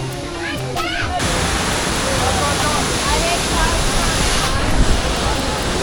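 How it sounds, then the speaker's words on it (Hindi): A roaring waterfall in heavy monsoon rain in Goa gives a dense, continuous rush of falling water, loud and steady throughout, with a few brief voices at the very start. "तो अब हम वाटरफॉल जा रहे हैं बारिश में, खतरनाक वाटरफॉल होने वाला है"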